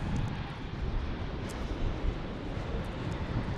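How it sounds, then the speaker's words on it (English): Broadband rumble and hiss from wake vortices left by a passing jet airplane near a San Diego airport, a faint, steady roar with a soft swirling quality and no talk over it. "that one got me some jet vortices, some wake vortices."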